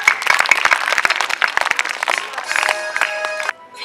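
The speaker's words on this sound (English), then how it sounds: "Clap for Arav." Audience applause at a school Christmas celebration, a dense, loud burst of many hands clapping steadily for several seconds before tapering off.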